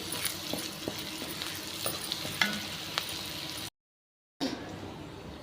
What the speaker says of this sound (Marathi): कट केलेली मिरची टाकायची, हे पहा मिरची आपली छान परतली आहे।